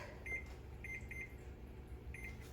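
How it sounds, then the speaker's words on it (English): Electronic timer beeps from a home kitchen while chocolate chip cookies bake, a few short bright chirps in separate pairs over a steady background hum, heard close and alone. "We're going to set our timer for 12 minutes."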